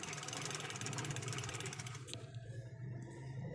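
A sewing machine stitches with silk thread in a fast, even whirring rhythm close by, then stops after about two seconds, leaving a quiet low hum.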